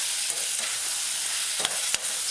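Chickpeas, mushrooms and peppers for a vegan stew being stirred in a pot, giving a steady low sizzle with a couple of brief spoon scrapes near the end.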